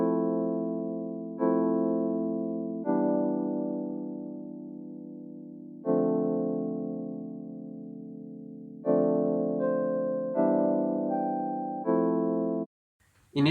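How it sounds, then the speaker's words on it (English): Rhodes electric piano on a break, playing sustained chords that are restruck about every one to three seconds with bell-like attacks and slow decays, higher notes added toward the end, solo with no voices. "I've introduced the Rhodes, which sounds like this."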